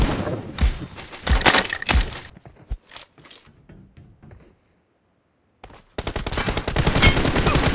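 Rapid automatic gunfire from a BGMI team deathmatch bursts loud and dense, breaks into scattered single shots, drops to a brief silence, then resumes as a sustained heavy barrage.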